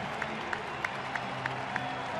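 A baseball crowd gives a pitcher a warm hand as he leaves the game, a broad wash of applause heard from a distance, steady and sustained throughout.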